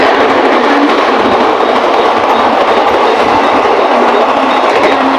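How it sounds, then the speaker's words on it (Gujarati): A local train bound for Borivali rolls past close by with a loud, unbroken rumble and rattle of wheels on track, holding steady for the whole stretch. "અને આ ટ્રેન જાય છે બોરીવલી."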